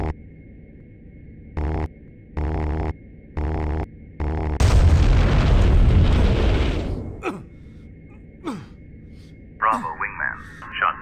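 Explosion of a shot-down Mi-8 helicopter in Jane's IAF, a long loud roaring blast that swells after a series of rhythmic beeping warning tones, then fades into quieter cockpit sounds and brief chatter.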